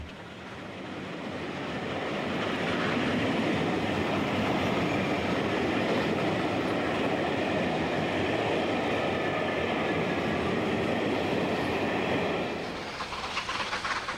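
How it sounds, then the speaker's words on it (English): Steam train hauled by Merchant Navy Pacific 35008 Orient Line, bound for Bournemouth in May 1967, passes as a loud, steady rumble and rush of wagons that swells in and holds for most of the run, easing slightly at the end. "Merchant Navy Pacific 35008 Orient Line heads a train for Bournemouth in May 1967."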